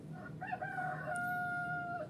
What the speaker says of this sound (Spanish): Aquí tienes un sonido de gallo.